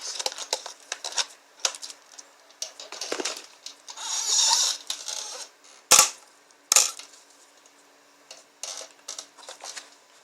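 Welding on a cracked exhaust manifold from a 2006 Dodge Magnum 3.5, heard as short irregular crackling bursts and sharp pops separated by gaps, close and moderately loud.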